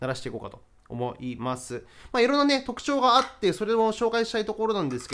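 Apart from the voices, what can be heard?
No everyday noise stands out behind the speech.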